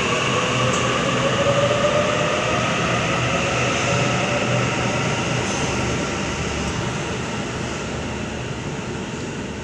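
Steady rumble and hum of a commuter train at platform 6 of Wynyard station, loud and continuous, with a faint whine of wheels and machinery throughout.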